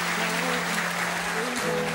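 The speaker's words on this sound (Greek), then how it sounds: "Ένα χειροκρότημα." Audience applause at an awards evening fills the room continuously, a dense even wash of clapping with a steady hum running beneath it.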